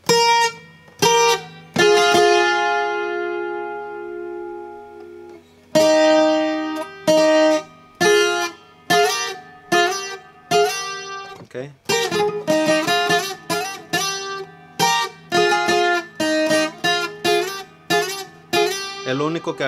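Bright, close requinto guitar plays a repeating phrase from a song, quick plucked notes with rapid triplet figures between held tones and short pauses, played alone for about twenty seconds.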